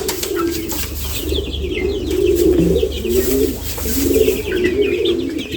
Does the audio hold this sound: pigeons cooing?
yes